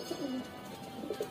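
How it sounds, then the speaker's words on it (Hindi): A khatang pigeon gives soft, low coos in two short phrases, one near the start and one near the end. The calls are faint and close, with quiet between them. "खतंग कबूतर है ये हमारा जी"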